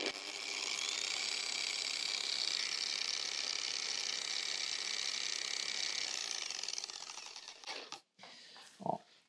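A Tershine DA15 dual-action polishing machine runs with a steady, high whirring for about seven seconds, then winds down and stops, followed by a couple of faint clicks.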